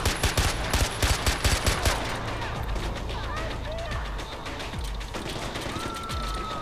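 Bursts of automatic gunfire in the video game Far Cry 4, a rapid volley of sharp shots in the first two seconds, then scattered ambient game noise with someone speaking.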